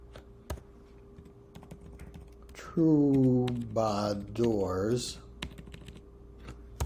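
Computer keyboard typing while solving a crossword: light, scattered clicks and taps run throughout, faint and close, with someone talking over the middle stretch.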